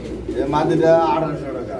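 A black female Coca pigeon gives a short, close, low cooing call, with someone talking over it.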